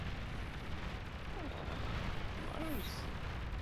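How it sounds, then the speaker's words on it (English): A large explosion at a base in a Red Alert style strategy game during a championship final match, a sustained rumbling blast that fills the clip under faint game effects and commentary-level background noise. "Huge ass explosion there in the back."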